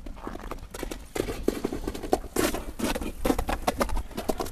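A black horse gallops over icy ground, its hoofbeats landing as rapid, uneven thuds close by and fairly loud, with no one talking.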